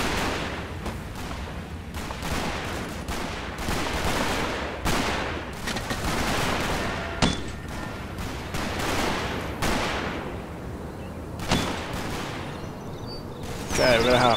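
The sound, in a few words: artillery rounds falling, from video game Combat Mission Fortress Italy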